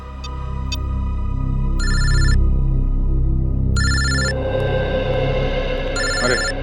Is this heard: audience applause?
no